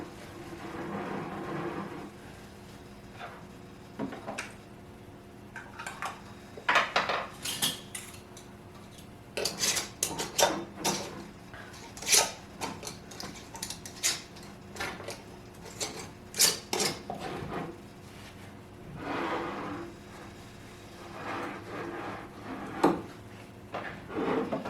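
Glass pint jars of chili clink and thud as they are set one at a time into a pressure canner, with scattered knocks and scrapes of metal and glass close by and quiet gaps between them.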